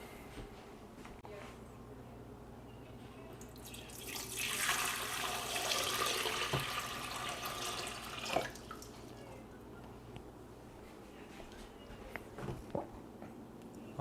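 Water poured into a Tiger electric water boiler, a steady splashing stream swelling for several seconds then tapering into a few drips and clunks, fairly close and moderately loud.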